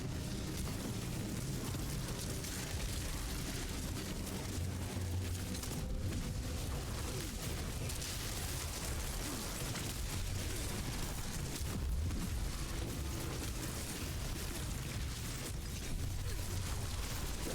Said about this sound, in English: Those are very dangerous poison explosion you got there